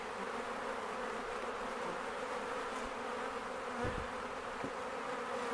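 Dense, continuous buzzing of many honey bees, close and steady, with a few soft knocks beneath the hum as bees are shaken into a box while splitting a hive.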